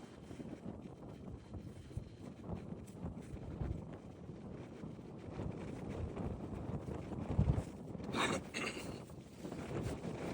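Steady wind rushes past the microphone on an open West Texas golf course at Borger Country Club, a continuous broadband buffeting with a few louder gusts, no voices.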